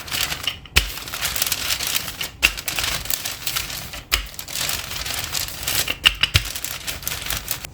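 Cookie dough is rolled out on parchment paper, producing an uneven run of crinkling, crackling paper sounds with short pauses between strokes.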